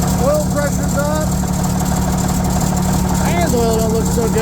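An old bulldozer with oil and fuel leaks idles with a steady, loud low rumble throughout, while someone talks over the running engine.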